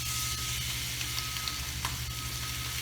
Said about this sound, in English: You hear that wonderful, wonderful sizzle?